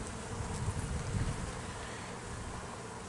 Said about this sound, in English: There's a lot of bees on here.